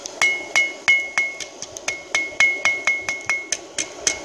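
A hammer strikes hot metal while forging, ringing out in a steady run of about fifteen sharp, evenly spaced blows, close and clear with no talking.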